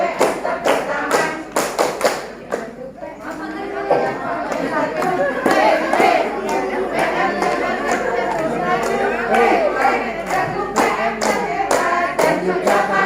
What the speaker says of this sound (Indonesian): Kalau masuk KPM tepuk tangan.